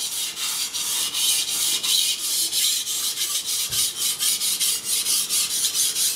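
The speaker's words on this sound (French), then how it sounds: "La lame glisse bien sur la pierre." A knife blade strokes over a Suehiro whetstone in a steady run of rhythmic, close, raspy scrapes, each pass repeating without pause and without talk.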